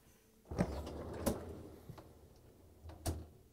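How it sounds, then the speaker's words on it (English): The freezer door of a Whirlpool fridge is pulled open, giving a muffled thump followed by soft clunks and a light rattle of the door and its fittings, close up in a quiet room. "Open the freezer door."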